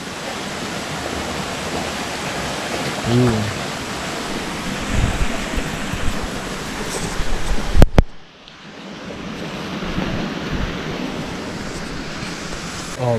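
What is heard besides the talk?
water flowing out of a stream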